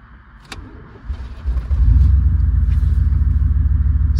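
A car engine cranks and fires up late at night on an interstate, a sharp click followed by a rising rumble that settles into a loud, steady idle close by.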